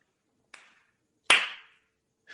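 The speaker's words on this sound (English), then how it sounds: "That applause is for Seth Rollins." A few sharp, isolated hand claps, three separate close smacks spaced well apart with near silence between them, the middle one loudest.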